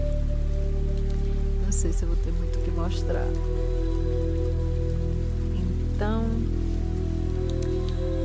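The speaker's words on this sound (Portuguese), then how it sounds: "E o dia amanheceu com muita chuva." Heavy morning rain pours in a steady hiss throughout, while a person speaks Portuguese close by over it.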